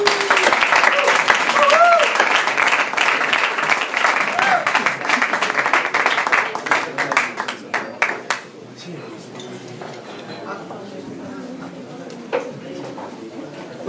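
Audience at a concert in a venue claps loudly for a guest musician, sharp individual claps standing out, mixed with a few voices and some whistle-like tones before the applause thins and dies down.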